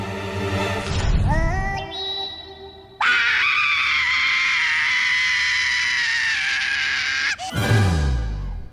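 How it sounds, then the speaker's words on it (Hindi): Scream from a man on a Baalveer Returns TV fantasy set, a long sustained high shriek lasting several seconds, preceded by a rising cry and cut off by another loud burst, close and loud with no talking. "ये कौन चीखा?"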